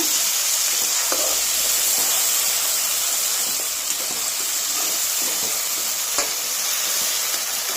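Ground mustard, garlic and ginger paste fries in hot oil, a steady loud hiss and sizzle with occasional faint stirring clicks.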